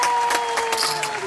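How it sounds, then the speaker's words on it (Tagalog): A short burst of clapping from a small group during a spicy noodles eating challenge, scattered hand claps over a steady tone, brief and fairly close. "Alright, palakpak naman dyan!"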